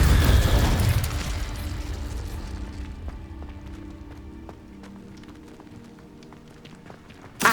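A loud fiery blast from the Incendio and Confringo spells in Hogwarts Legacy bursts at the start, then fades into a long low rumble with faint scattered crackles and a sharp pop at the very end.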